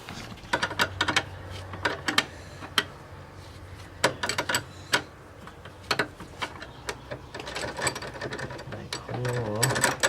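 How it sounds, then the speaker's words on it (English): A 10 mm flare nut wrench loosening brake line fittings on a 92-95 Honda Civic master cylinder, giving scattered close metallic clicks and scrapes over a low steady hum, with a brief squeak near the end. "You're going to need a 10 flare nut wrench, so we'll go ahead and start doing that."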